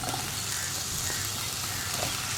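Chopped ivy gourd is added to onions frying in a pan for a kovakka vendakka mezhukkupuratti stir-fry. A dense, continuous sizzle sounds close up with faint stirring underneath.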